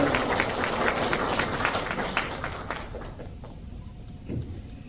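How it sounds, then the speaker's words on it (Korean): Audience applause at an apple-farming college entrance ceremony in Mungyeong, South Korea, a dense wash of many hands clapping, gradually thinning and fading out over a few seconds. "큰 박수로 환영해 주시기 바랍니다."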